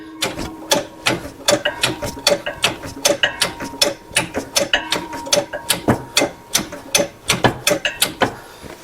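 A ratchet clicks in quick, regular bursts while turning over a seized Ford 289 V8 in a 1964 Ford Custom 500, each stroke a crisp metallic clatter with short pauses between, loud and close.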